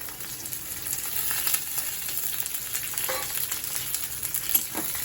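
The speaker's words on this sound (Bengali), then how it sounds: "পেঁয়াজ, লঙ্কা, রসুন সব ভালো করে ভাজা হতে দেব, লাল রং পর্যন্ত ভাজব" Chopped onion, green chilli and garlic frying in a pan for an ilish fish-head and pui shak chorchori, a steady, moderately loud sizzle and crackle with occasional faint stirring scrapes.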